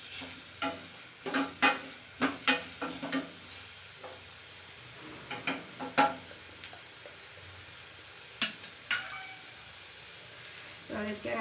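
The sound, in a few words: onions frying in a pan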